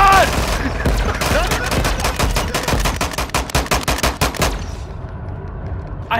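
Rapid automatic gunfire from a Call of Duty Warzone match rattles in dense, loud bursts for several seconds, with a few voice fragments at the start before the shooting stops.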